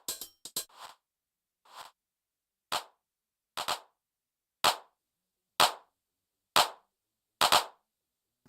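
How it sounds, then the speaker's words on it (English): A drum machine hand clap sample fires as sharp, dry snaps: a quick cluster at first, then single claps repeating about once a second, each crisp with a short tail against silence. "So there's the hand clap"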